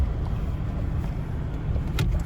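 Interior of a Kia Optima while driving after an oil pressure switch repair: a steady low rumble of engine and road noise, fairly quiet and continuous, with no speech.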